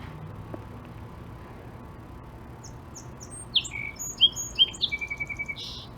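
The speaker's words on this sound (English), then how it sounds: "That bird is here every morning. When I sat on my bench, it just continues singing." A bird sings in a small backyard garden in Canada, starting with a few faint far chirps over quiet background hum, then a run of clear, louder tweets and trills close by.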